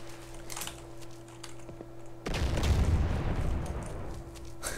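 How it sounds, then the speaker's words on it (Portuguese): An explosion in the video game DayZ hits suddenly partway through, a loud low boom that rumbles on and slowly fades, following quieter game ambience with small clicks. "A explosão continua."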